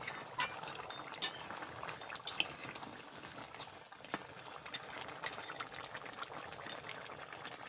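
Crab masala simmering in a covered pot, giving a quiet, steady low bubbling with occasional faint clinks of the lid or utensils, no voices.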